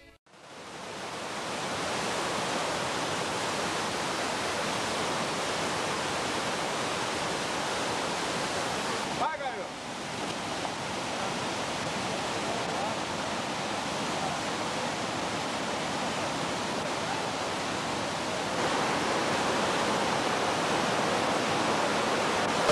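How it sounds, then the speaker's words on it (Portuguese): Waterfalls cascade down mountain slopes near Arapeí, making a steady, broadband rush of falling water that holds loud and continuous throughout. "Cachoeiras descem pelas encostas, criando locais de lazer e banhos refrescantes."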